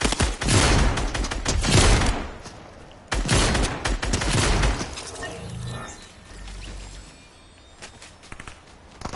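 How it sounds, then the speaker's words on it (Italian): Gunfire in a PS4 shooter game bursts out in loud, dense rapid volleys, two heavy clusters followed by scattered shots and mechanical clatter, with quieter gaps between. "Ma non ho capito se è Matteo che sta sparando"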